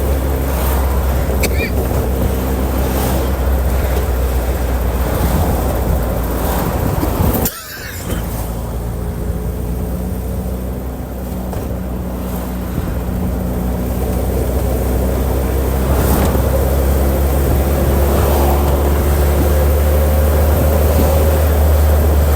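A JC Midge car drives along after an SU carburettor service, its engine a steady droning rumble with shifting revs and a brief sharp knock partway through, and no talk over it.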